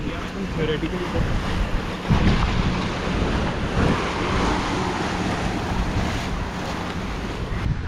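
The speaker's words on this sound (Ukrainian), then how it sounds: "Хвильки поливають людей." Ocean waves surge and splash at Stanley Park in Vancouver amid strong wind buffeting the microphone, a continuous loud outdoor roar with faint voices underneath.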